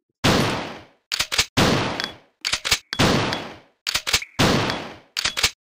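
Gunfire in Resident Evil 2: four loud, sharp weapon blasts each trailing into a decaying echo, alternating with short bursts of mechanical clicks and clacks, all alone with no talk.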